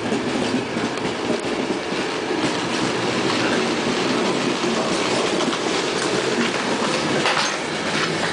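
Steady, loud rumble and rhythmic wheel clatter of the EC 101 Morawia express train heard from inside a moving carriage, a continuous roar lasting the whole stretch with no voices.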